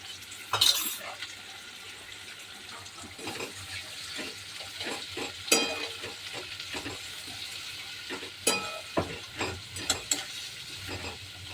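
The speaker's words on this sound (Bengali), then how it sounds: "পেঁয়াজগুলো কড়াইতে দিয়ে দেবো।" Sliced onions frying in oil in a wok for crisp fried onions, a steady sizzle broken by repeated scraping and clanking of a metal spatula stirring them, with occasional sharper clatters.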